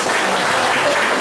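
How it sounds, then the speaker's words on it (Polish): Loud, dense applause fills a town council session hall in Dąbrowa Tarnowska, a short burst of many hands clapping together at close range with no talk over it. "Prosimy o brawa."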